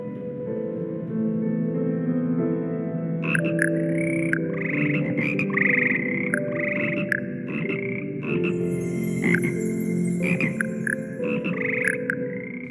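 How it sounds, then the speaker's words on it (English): A choir of frogs croaks in rhythmic, tuneful patterns over a sustained musical backing in a castle music classroom in the Hogwarts Legacy video game, with bright chime-like accents near the end. "In the music class, we can see the Frog Choir from the Prisoner of Azkaban film. They're getting in some much needed practice."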